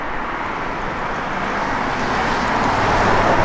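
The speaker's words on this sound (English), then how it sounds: "Great sounds, got Dynomax dual exhaust on it." A 1966 Pontiac LeMans convertible with Dynomax dual exhaust runs with a steady, even engine and exhaust rush, close and constant with no talk.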